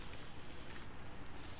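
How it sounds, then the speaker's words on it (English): A spray tool fired in the video game Death Stranding 2, a steady, loud hiss of pressurized spray that runs continuously, briefly thinning in its highest sizzle partway through before resuming. "Okay, now we just move over to our spray."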